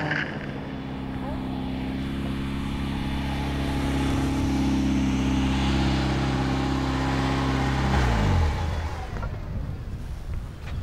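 A Caterham car's engine drones steadily under load, swells, then drops sharply in pitch as the driver brakes and blips the throttle, with someone talking over the engine.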